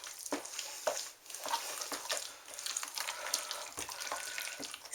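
Lasagna ingredients being mixed thoroughly in a bowl, giving a steady run of close, scraping and rustling stirring strokes, with no talk over them.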